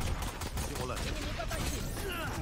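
Gunfire in the tactical shooter Valorant, rapid bursts of shots crackling over a busy, dense game mix, loud and close with overlapping reports and other in-game effects.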